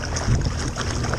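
A Minn Kota trolling motor running at full throttle on a kayak, a steady low drone with water wash and light wind noise, no speech.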